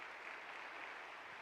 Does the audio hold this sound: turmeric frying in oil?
no